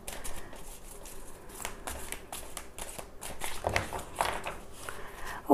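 Tarot cards being shuffled by hand at a reading table, a soft continuous riffling and rustling with a few sharper flicks and slaps, close and fairly quiet with no talking.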